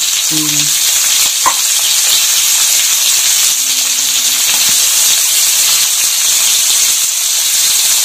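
Half a kilo of small whole potatoes frying in hot oil make a loud, close, steady hissing sizzle, with a couple of brief faint tones early on and no talking.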